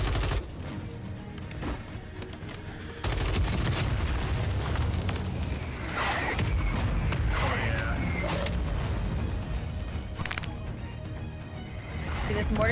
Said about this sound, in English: See, this mortar's getting slowly and slowly closer to me.